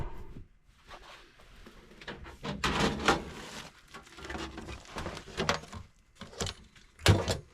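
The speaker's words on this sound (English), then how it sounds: "So we'll get our door back on." A furnace's metal door panel is handled and refitted, giving a run of clunks, scrapes and rattles of sheet metal, close and uneven, with louder knocks as it seats in place.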